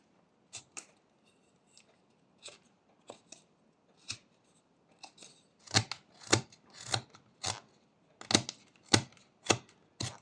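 A knife whittles wood while flattening the feet of a small carved parrot, giving crisp, close scraping and slicing strokes, sparse at first and then quicker and louder in irregular bursts, with no talking.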